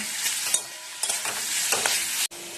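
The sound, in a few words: vegetables with salt frying and being stirred in a pan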